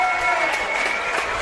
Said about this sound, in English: And a warm applause for Ben Sutton